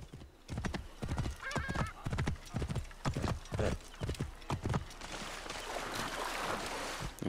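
Horse hooves clip-clopping rhythmically at a steady pace in Assassin's Creed Origins, close and loud, with a brief neigh, then fading into a softer wash of ambient game noise.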